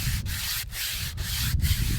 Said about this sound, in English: I'll just rest my sandpaper on top, and I'll get nice even strokes all the way down from the top to the bottom of the Atlatl